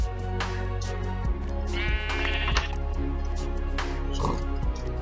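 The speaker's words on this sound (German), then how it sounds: "Da ist ein Schaf." Sheep bleating in Minecraft, during a beta-version play session: several wavering bleats repeat over a steady in-game music drone, loud and close.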